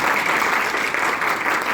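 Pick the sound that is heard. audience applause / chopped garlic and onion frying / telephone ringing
audience applause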